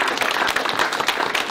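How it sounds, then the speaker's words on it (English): Steady applause from a crowd, dense clapping filling the whole moment at a fairly loud, even level without voices. "We'll give them a round of applause"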